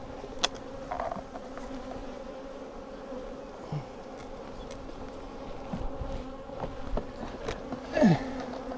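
Honey bees buzzing around an open, large spring hive during an inspection: a steady close hum of many bees with individual bees droning past the microphone, alone without speech.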